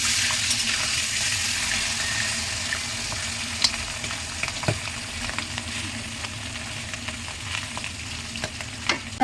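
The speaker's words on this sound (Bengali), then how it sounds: "দেখুন বন্ধুরা এক সাইড হয়ে গেছে ভাজা এবার মাছটাকে উঠিয়ে দেবো" Pieces of hilsa fish fry in hot oil in a kadai, giving a steady close sizzle with scattered pops and crackles throughout.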